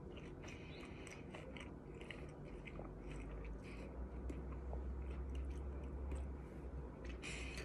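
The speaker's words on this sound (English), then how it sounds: "Let's taste the Korean pork belly just by itself and see how it tastes." Korean pork belly (samgyeopsal) being chewed on its own, fatty with a little crunch; soft, close, steady mouth sounds and bites across the clip with no talking.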